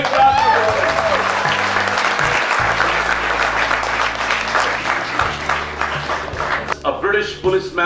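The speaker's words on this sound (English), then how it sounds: "Big clap for him." Dense audience applause welcomes a singer and policeman at Marwah Studios, a loud continuous patter of many hands over low sustained music tones that thins out near the end as voices come through.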